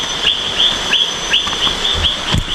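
Forest frogs near Hulugan Falls in Luisiana, Laguna, give bird-like chirps: short, rising whistled notes repeating every half second or so over a steady background hiss.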